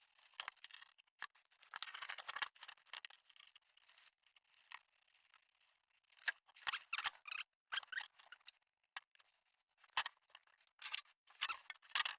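Scissors snip through carbon fibre cloth in a cramped home workshop, giving a series of short, crisp, close cuts in irregular bursts with quiet gaps between them.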